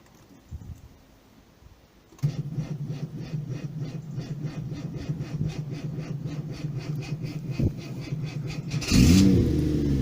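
A Subaru H6 3.0 engine fitted in a VW Caravelle T3 van is started hot and settles into a steady, close idle after a brief quiet moment, with a louder burst near the end.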